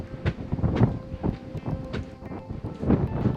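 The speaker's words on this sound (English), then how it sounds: "There will likely be no sound from this video because it's so windy up here." Strong wind buffets the microphone on a cold, cloud-covered mountain summit at Cannon Mountain, loud rumbling gusts in uneven pulses that fill the whole moment.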